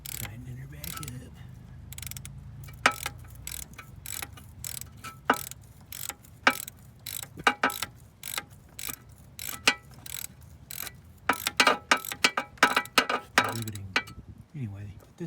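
A ratchet clicks in quick irregular bursts while tightening parts back onto a 2019 Toyota Camry engine during coolant bypass valve work, sharp close-up ratcheting repeated throughout.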